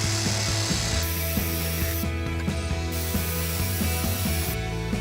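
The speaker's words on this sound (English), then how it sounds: "we line our jigsaw up with that edge, and all we're really doing is pushing it forward towards that other edge" A power jigsaw cuts through a recycled plastic drinks crate, its motor whining steadily while the blade chatters and rattles in rapid rhythmic bursts, loud and close with no voices.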